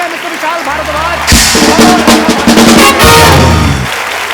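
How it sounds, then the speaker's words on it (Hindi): Studio audience clapping and cheering on a Hindi comedy talk show as guests are welcomed, a loud burst swelling over a musical backdrop and continuing steadily for a few seconds. "जोरदार तालियां मिस्टर विशाल भारद्वाज।"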